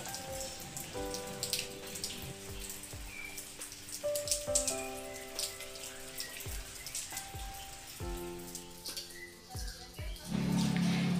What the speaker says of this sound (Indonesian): Nah, ini lagi hujan ya teman-teman.